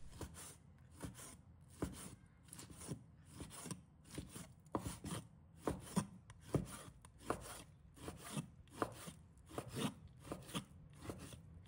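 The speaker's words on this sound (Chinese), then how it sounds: "把它切成片。" Knife chopping lean pork into slices on a cutting board, a steady run of sharp, close knocks about one per second, alone without talk.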